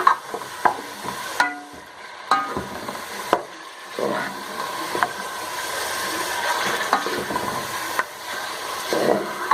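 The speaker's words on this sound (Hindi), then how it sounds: "हमें इसको अच्छी तरह से भूनना है जब तक कि ये हमारा अच्छी तरह से इसका कलर" Bone-in mutton pieces are stirred and fried in a pan, with repeated scraping and clanking of a spoon over a sizzle that builds steadily, close up and with no voices.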